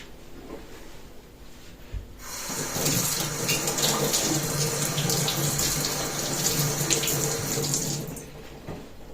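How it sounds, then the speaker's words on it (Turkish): Tap water gushes into a kitchen sink while a container is rinsed underneath, a steady close rushing splash starting abruptly after a couple of seconds and running several seconds before cutting off. "Şunun dışını yıkayalım hemen."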